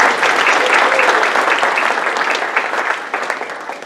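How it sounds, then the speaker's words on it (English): Audience applause for the judges at a meeting, a close and dense burst of clapping that thins out toward the end. "Let's give them a round of applause."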